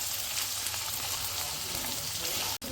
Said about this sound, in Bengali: এটাকে ভাজা করবেন ব্রাউন হওয়া অবধি